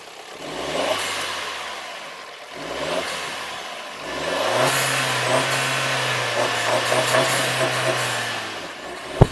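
A Jeep Renegade's turbocharged 1.4-litre petrol engine revs up several times, each rise a rising whine, then holds a steady higher drone, close and fairly loud with no speech.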